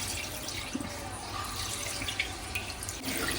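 Raw prawns being rinsed clean under a running kitchen tap, with a steady broadband rush of water and a few small splashes and drips, close by with no talking.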